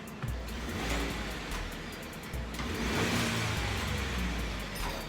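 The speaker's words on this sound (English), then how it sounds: "Let me give it a rev and see if you can tell something real quick." A 2015 Ford F-150 pickup engine runs with a steady, rough low rumble that swells slightly as it revs, close by and continuous with no talking.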